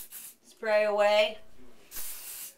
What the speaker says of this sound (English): now let me spray